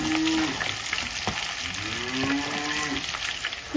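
Onions frying in oil over medium heat give a steady sizzle with occasional stirring clicks, while a cow's drawn-out lowing sounds through the background.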